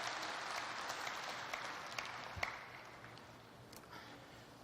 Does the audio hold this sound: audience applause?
yes